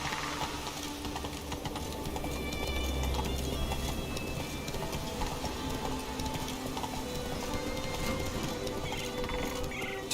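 Horse hooves clip-clop in The Witcher 3 video game, a steady, busy gait of hoofbeats over a dense bed of game ambience and music that runs the whole time.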